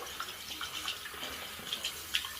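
Tap water runs steadily into a sink as a badger shaving brush is rinsed under it, a close, continuous splash with small bright spatters.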